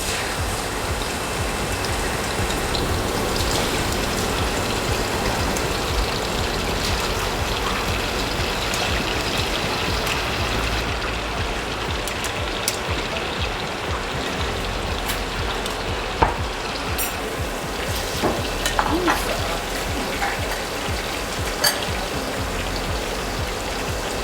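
Pork belly frying in oil for kare-kare, a steady dense crackling sizzle that holds close and loud throughout, with a few sharper pops toward the end and no talking.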